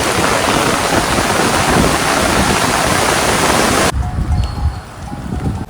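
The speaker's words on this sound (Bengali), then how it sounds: "এত জোরে বৃষ্টি পড়ছে" Loud, dense roar of heavy rain pouring down near Dhanbad, continuous and close, dropping suddenly in level near the end before building again.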